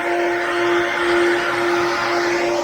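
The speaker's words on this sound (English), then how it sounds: "We got the bin fan blowing and we got the dryer going." A loud, steady mechanical roar with a constant hum tone from a grain bin fan and grain dryer running nonstop close by on a farm during corn harvest.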